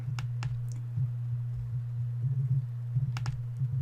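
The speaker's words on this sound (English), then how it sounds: "So I'm just going to right click and say delete." A few sharp, faint computer mouse clicks, a right-click to delete a file, stand out against a steady low hum.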